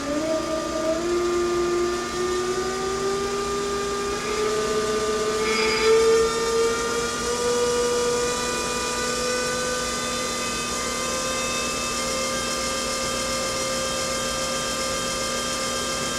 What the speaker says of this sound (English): as we're turning on the pump, you are not going to want to let this torque arm move around freely